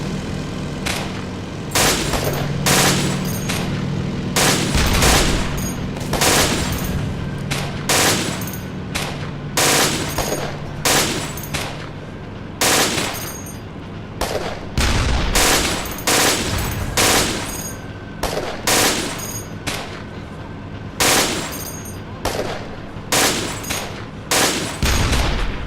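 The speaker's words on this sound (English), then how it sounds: "The MG-42 is the best and fastest machine gun in the world." Rapid bursts from an MG-42 machine gun in the video game Iron Front 2, loud and close, firing repeated sustained volleys separated by short pauses, with a faint engine idle underneath.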